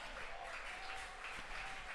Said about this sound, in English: Perkins fans starting to clap it up.